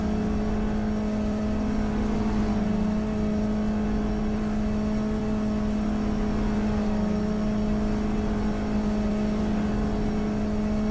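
Race car engine held slightly above 6000 RPM at around 200 km/h in GTR2 on the Linas-Montlhéry circuit, a steady loud droning whine at constant pitch throughout with no talk.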